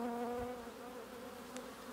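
Honey bees buzz steadily at close range around frames in an apiary set up for queen cell building, a continuous droning hum with a few brief louder passes.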